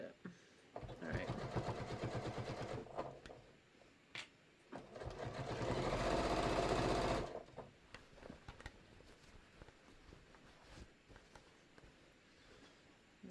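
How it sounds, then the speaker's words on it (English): A sewing machine stitches a quilted batik floppy hat, running in short bursts and then one long, steady, loud run in the middle, with handling noises between the stretches. "we can just make quick work of sewing this"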